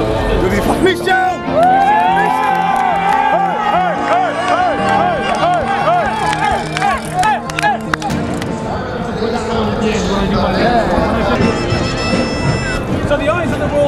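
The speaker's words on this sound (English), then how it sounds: "there's only one guy these guys are cheering on, and that's the Dutchman, Michel Mulder" Dutch fans cheer for speed skater Michel Mulder at the Sochi Winter Olympics 1000m race, a crowd chanting and shouting in rhythmic bursts over loud arena noise, with a commentator talking throughout.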